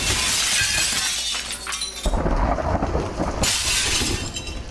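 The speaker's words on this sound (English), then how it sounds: "I just really love breaking the glass in this game." Glass shatters in the video game Receiver 2, with a loud crash followed by tinkling shards and noisy debris, then a second burst of breaking a few seconds later, all without any voices.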